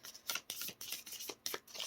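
Oracle cards shuffled by hand in quick papery bursts, several short riffling rustles in an irregular rhythm, close and quiet with no talking.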